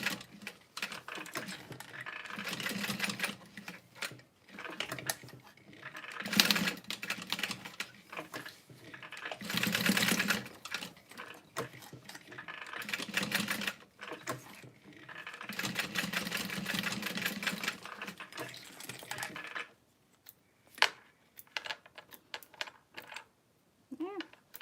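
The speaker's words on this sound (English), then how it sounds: "I'm just going to do a box stitch with a little diagonal" A sewing machine runs a box stitch with a diagonal across a fabric wristlet strap, stitching in repeated bursts with short pauses in between and a brief near-quiet stretch toward the end.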